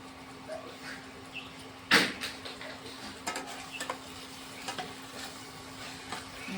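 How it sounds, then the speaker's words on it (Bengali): Spices for a katla fish curry stirred in a pan with salt and Kashmiri red chilli powder, giving a sharp scrape followed by lighter intermittent scraping and a soft sizzle, with no talking. "সবগুলো একটু ভালো করে কষে নেব।"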